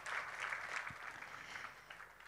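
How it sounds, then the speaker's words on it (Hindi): A concert audience applauds in a hall, a dense, even wash of clapping that runs steadily for a couple of seconds at moderate distance. "तालियों की एक गूंज उनके लिए भी।"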